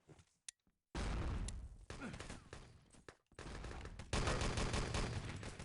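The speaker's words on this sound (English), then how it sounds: "Just those 2 effortless headshots with the Luger" Gunfire rattles in the shooter game Enemy Territory during a competitive match, with a few isolated shots followed by dense, loud bursts of overlapping fire, including Luger pistol shots.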